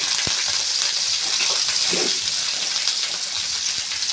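Green chillies and curry leaves fry in a pan, giving a steady, loud sizzle throughout with a couple of small knocks.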